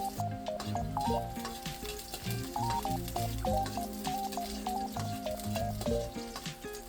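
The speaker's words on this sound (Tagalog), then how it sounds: "Pagkatapos ay gisa na natin yung bawang." Garlic sautéing in hot oil in a pan, a continuous close sizzle broken by light scraping and knocking of a utensil as it is stirred.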